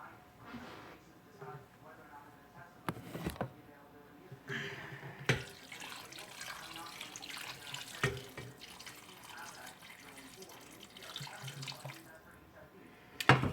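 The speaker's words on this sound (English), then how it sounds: "we're going to add some water to it" Tap water running into a large soup pot in a home kitchen, a steady faint splashing stream with clinks and knocks of the pot, going on for over ten seconds.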